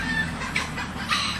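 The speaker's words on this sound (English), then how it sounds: "I don't know what the chickens keep going off about" Chickens clucking and squawking outdoors, a few irregular cackles over a steady low background hum, moderately close and not masked by talk.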